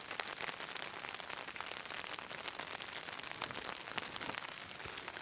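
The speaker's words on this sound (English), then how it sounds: "I love the sound of the rain on the tent." Steady rain falling on a tent, a dense, even patter of close drops with no pauses, soft and continuous.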